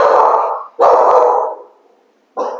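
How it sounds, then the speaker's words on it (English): A dog barks loudly at close range, two drawn-out barks in quick succession followed by a third after a short pause. "Are you barking at me?"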